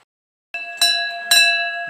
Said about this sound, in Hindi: तो सबसे पहले मैं घंटी बजाऊंगा